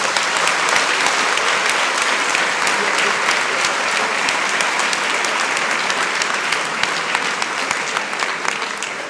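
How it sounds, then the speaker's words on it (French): Audience applause in a university lecture hall, a dense, sustained clapping from a large crowd at fairly close range that holds steady for several seconds and tapers slightly at the end. "Et là, on peut l'applaudir."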